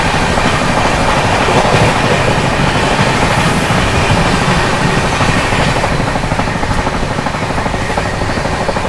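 The 12264 Nizamuddin–Pune AC Duronto Express runs at high speed near Sawai Madhopur, a loud, continuous rushing roar with rapid rhythmic wheel clatter from on board, no voices heard.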